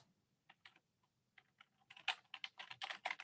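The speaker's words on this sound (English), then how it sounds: "I'm going to type in communication" Close, quiet typing on a computer keyboard: scattered single keystrokes at first, then a quicker burst of clicking as a word is entered.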